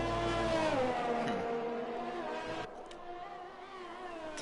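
Racing cars drive on a track during an online league race at Brazil, engines droning and shifting pitch as they pass, a continuous layered motor roar with no talking.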